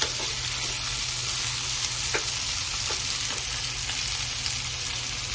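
Vegetables for veg fried rice sizzle over a high gas flame, a loud, steady frying hiss with faint stirring scrapes throughout and no talking.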